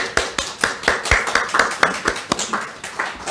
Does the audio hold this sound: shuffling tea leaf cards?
no